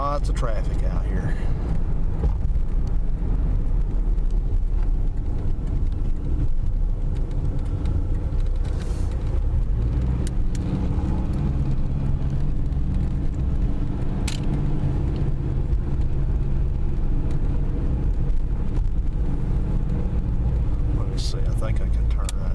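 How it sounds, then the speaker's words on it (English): Road traffic rumbles past while driving through a residential neighborhood near schools, a steady low drone of engines and tires with wind noise mixed in throughout. "Lots of traffic out here."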